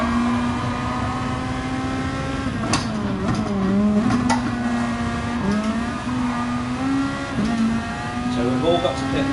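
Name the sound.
race car engine in video game Gran Turismo Sport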